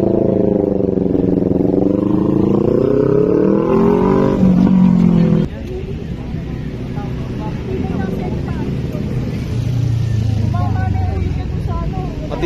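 Big bike motorcycle engine revving hard at speed, a loud rising whine that climbs for several seconds, cuts off abruptly, then continues as a rougher, lower drone.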